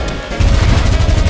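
Rapid gunfire in the fast-paced shooter game ULTRAKILL, a loud, dense burst of repeated shots that starts abruptly and continues steadily with no talk over it.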